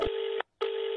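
A telephone rings in two electronic bursts separated by a short gap, loud and close, with no other sound around it.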